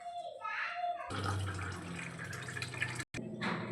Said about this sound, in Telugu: దీంట్లో కొంచెం వాటర్ పోసేసుకొని